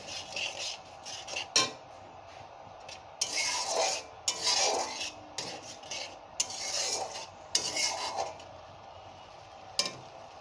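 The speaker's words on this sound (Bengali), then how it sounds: "অল্প একটু জল দেব, দিয়ে আলুটা ভালো করে কষিয়ে নেব" A utensil stirs and scrapes potatoes in spiced oil in a pan, with repeated metallic clinks and scraping strokes in an uneven rhythm, close and fairly loud, no talking.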